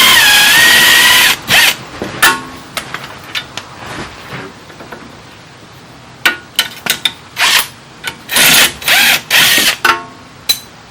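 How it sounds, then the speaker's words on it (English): An impact gun removes a bolt during a left front CV axle replacement on a Mitsubishi Outlander: a loud, sustained whirring run, then a series of short, punchy rattling bursts, close up with no speech. "Now we should be able to take it off with the gun."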